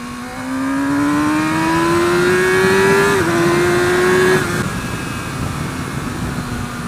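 A 2017 Yamaha R6 sport motorcycle engine, a loud, rising high-pitched drone that climbs steadily, briefly dips as it shifts, then holds before easing, heard up close with no talking.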